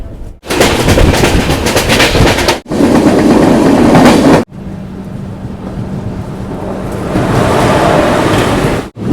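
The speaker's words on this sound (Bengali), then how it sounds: "ট্রেন এখন যাচ্ছে ডানকুনি" A loud, steady rumble and roar of a passenger express train rolling along the tracks near Dankuni, with abrupt breaks and shifts in intensity, no voices.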